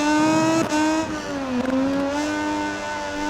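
Moto2 racing motorcycle engines in MotoGP20 howl at high revs on a last lap uphill, a loud, tonal whine that dips sharply at a gear change, then climbs steadily.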